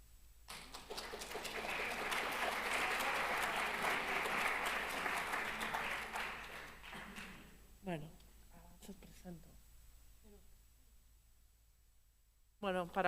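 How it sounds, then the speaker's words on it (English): Audience applause at a mathematics conference and round-table session, a sustained broadband roar lasting about seven seconds before thinning out, with a voice speaking briefly after it fades. "A round of applause for Pilar, who came back"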